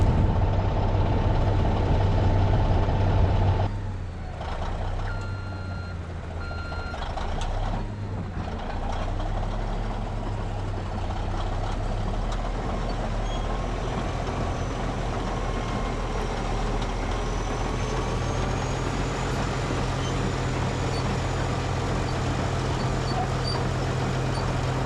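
A Caterpillar D7 bulldozer rumbles steadily as it is driven onto a lowboy trailer, a loud, continuous low diesel drone that lasts throughout, with a brief dip in level early on and no talking.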